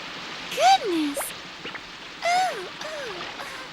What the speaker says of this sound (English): It had been raining and raining in Moominvalley for 10 days.